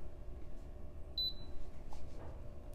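A coffee timer on a home brew bar gives two quick high beeps as it starts, faint and close, against quiet room hiss.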